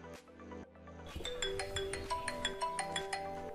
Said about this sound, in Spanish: Puedes escuchar en este momento mi teléfono móvil. En mi teléfono está sonando, pero en la PC no.